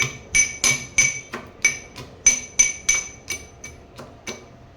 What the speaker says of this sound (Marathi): त्यामध्ये घालायचे जिरं आणि हे वाटून घ्यायचं आहे